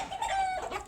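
One of three roosters gives a brief, raspy clucking call, close by and fairly loud, lasting under a second.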